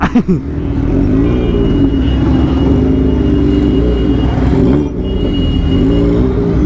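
A Suzuki Hayabusa sport motorcycle engine idles with a loud, steady rumble close by, holding an even throb for several seconds before a brief dip.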